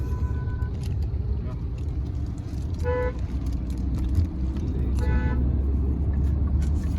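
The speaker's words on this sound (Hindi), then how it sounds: "क्रेटा वाला हॉर्न है" A Hyundai Verna's car horn sounds in short bursts, one early, one near the middle and one later, over a constant rumble of engine and road noise.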